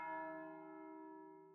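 Church bell in the Pentiment video game, a single clear struck tone with rich sustained overtones decaying slowly and evenly, alone and fairly quiet.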